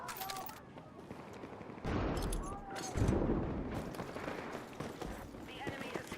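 Grenade launchers fire in a first-person shooter game, with repeated heavy thumps and bursts mixed into a dense gunfight. A voice talks over the combat.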